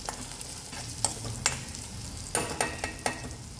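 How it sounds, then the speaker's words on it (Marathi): Soft tomatoes with chutney, salt, cumin powder, coriander powder and turmeric being stirred in a pan for semolina upma, a low sizzle under sharp spoon scrapes and clacks that cluster in the last second, close and without talk. "हे सगळं घालून मिक्स करायचं आहे"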